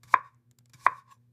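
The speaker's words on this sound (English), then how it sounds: "I am cutting vegetables." Two sharp knife strikes on a cutting board, spaced under a second apart, as vegetables are chopped close by in a quiet room.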